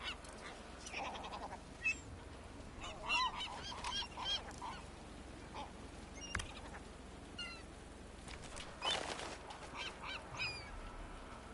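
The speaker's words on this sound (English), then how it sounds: "Bloody birds." Geese honk repeatedly in the Sniper Elite 5 video game, with scattered nasal calls of varied pitch over a steady outdoor ambience, some near and some farther off, running throughout.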